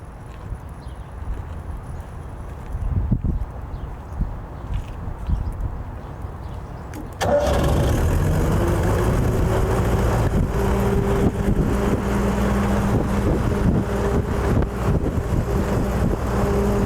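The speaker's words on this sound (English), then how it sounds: "Brian, why don't you go ahead and start her up?" A small engine on a DIY Sevtec hovercraft starts after some low handling noise, then runs loudly and steadily with a constant droning roar and wind buffeting, close to the microphone.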